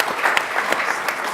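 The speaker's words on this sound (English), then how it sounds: "We get a round of applause for that" Brief burst of audience applause at an education summit, dense steady clapping from a crowd.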